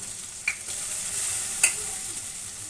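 Chopped tomato going into hot oil seasoned with a little turmeric, giving a steady soft sizzle with two brief sharper spatters, close and alone.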